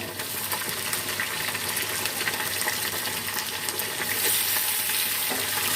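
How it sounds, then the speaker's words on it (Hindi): Chicken pieces frying with whole spices in a pot for degi-style chicken korma, a loud, steady sizzle and crackle running throughout with no talking. "हम तकरीबन 3 से 4 मिनट के लिए फ्राई कर लेते हैं"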